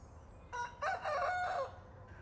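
A rooster crows once, a loud, clear cock-a-doodle-doo rising and falling over a quiet background.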